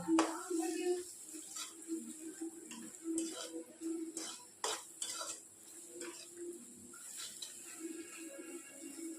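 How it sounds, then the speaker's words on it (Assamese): Spoon stirring onions and salt in a pan while cooking hilsa fish, with faint scraping and clinking strokes against the pan, quiet and close, with a low hiss behind. "এইখিনি মই এতিয়া ভালদৰে লৰাই দিম।"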